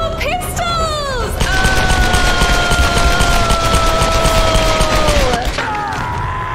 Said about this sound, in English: Oh, we have the dual pistols!